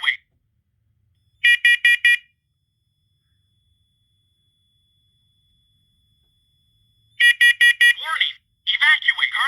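A home smoke alarm under test gives two loud bursts of rapid, piercing beeps separated by several seconds of silence, then a synthesized voice announcement follows.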